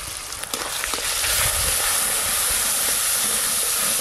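Grated tomato with Kashmiri chilli powder, turmeric and salt sizzling in hot oil in a pan, a steady loud hiss with crackle that holds without a break throughout.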